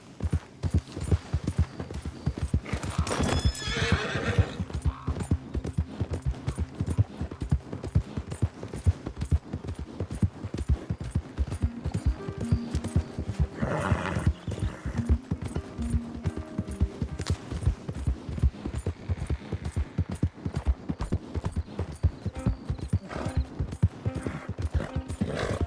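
Horse hooves clip-clop at a steady gallop in Red Dead Redemption 2, loud and continuous for the whole stretch, with a whinny and occasional game sounds mixed in.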